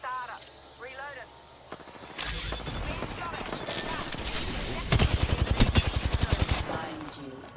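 Rapid video-game gunfire bursts out loud after a quieter opening, rising into dense fast volleys near the end, with a voice talking over the fight.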